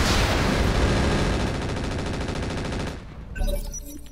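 Heavy mech weapons fire in the Roguetech BattleTech game: a dense, loud barrage of rapid shots and blasts rolling on for about three seconds, then cutting off to quieter scattered impacts and mechanical tones.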